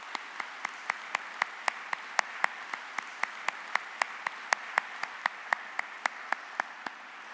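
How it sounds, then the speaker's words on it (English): Sparse, evenly spaced hand claps ring out in a large hall at a county address, a thin applause for county staff that stays light and rhythmic throughout. "let's give them a round of applause"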